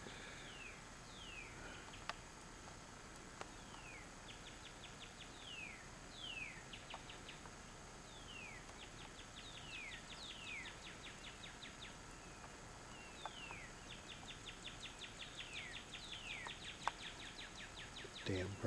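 Small birds chirp and trill repeatedly in the distance over a soft outdoor hiss, with quick bursts of tweets through the quiet.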